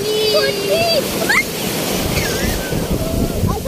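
Ocean waves surging against the tall rocks of Khavne beach, a rushing wash of surf with wind buffeting the microphone and excited voices and faint whistles over it.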